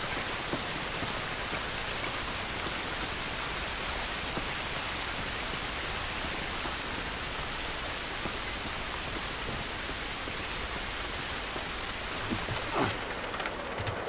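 Steady rain pours in The Last of Us video game, a dense continuous hiss of drops on surfaces with faint thunder-like rumble, filling the whole stretch without talk.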